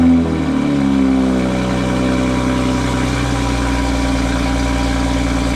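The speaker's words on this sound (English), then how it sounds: "we're gonna give her one last cold start with the stock exhaust" A Toyota Supra on its stock exhaust in a cold start, with a brief startup surge that settles into a steady, smooth idle, heard up close and loud for several seconds.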